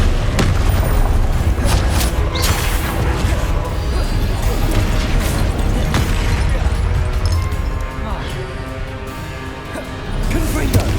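Confringo blasting spells explode repeatedly in the Hogwarts Legacy video game, loud booming impacts and crashes in quick succession amid constant combat noise, with brief pauses before more blasts.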